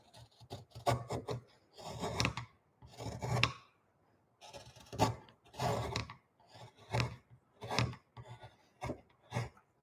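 Wood being carved by hand with spoon bent gouges during relief carving, giving repeated short scraping, rasping cuts in uneven bursts with brief pauses between strokes, close and clear with no talking.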